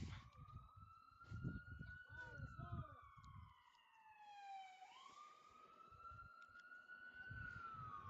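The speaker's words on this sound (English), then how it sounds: "Apologies for the sirens. There was a fire truck coming by." A fire truck siren wails and sweeps in pitch as it passes a high school baseball game, with someone talking over it throughout.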